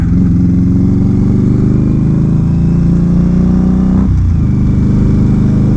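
An Indian Scout motorcycle rides along a road, its engine a loud, steady low drone heard up close, with a brief shift in pitch near the end as the throttle changes; no talking.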